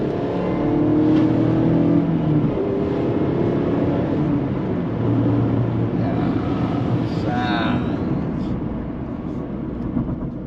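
A Mazda MX-5 Miata engine roars and climbs in pitch as it accelerates under throttle, steady and close, with a few brief gear-change dips along the way.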